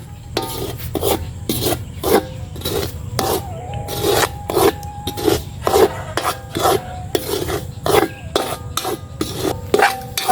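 Semolina (rava) stirred and scraped in a pan while making upma, giving a steady run of rhythmic rasping strokes that repeat close up for about ten seconds, with no talking.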